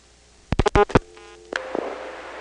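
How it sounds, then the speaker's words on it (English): A telephone dials a 2 into an XY step-by-step switching exchange: two sharp clicks, then a quick cluster of clacking switch pulses, a faint tone and one more click as the mechanism steps, with a short hiss after. "let's try dialing a 2 first of all"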